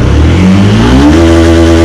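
A Yamaha Y15 motorcycle engine revving hard up close, a loud sustained roar that climbs in pitch and holds high, with no voices.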